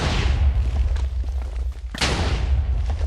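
Booming explosions from a superhero mod bomb in Minecraft, two heavy low blasts with rumbling tails, loud and close, the second hitting about two seconds after the first.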